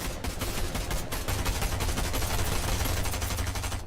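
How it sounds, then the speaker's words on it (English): Battle royale video game gunfire: dense, continuous crackle of distant and mid-range shots with rapid automatic bursts blending into a rough wash, steady loudness throughout, no talk. "Lots and lots of gunfire coming up from up top here."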